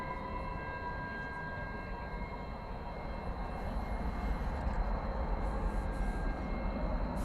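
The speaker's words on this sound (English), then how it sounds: "It's Max 8 coming in from Santa Ana, California, flight 2659, American Airlines." An American Airlines Boeing 737 Max 8 jet comes in to land at DFW at night, its broad engine roar steady and then swelling slightly louder as it nears, with no talk.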